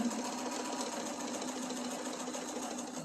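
A sewing machine stitching a fabric jar opener, running at steady speed with a rapid, even mechanical chatter, close and continuous without a voice.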